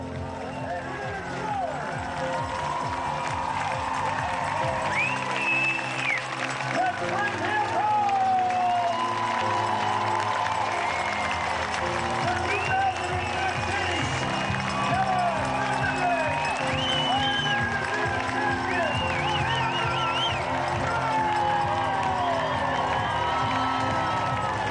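A crowd at the Ironman New Zealand finish line cheers and applauds steadily, a dense wash of clapping and shouts heard under continuous commentary.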